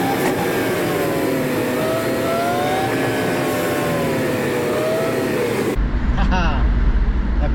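A voice imitates racing car engine noises, humming rising and falling revs that sweep up and down steadily, then cuts off abruptly near the end into a different, closer rumble.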